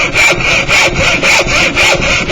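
Hand saw cutting through wood for a dovetail joint pin, loud and close, with about eight even back-and-forth strokes in a steady rasping rhythm and no talk over it.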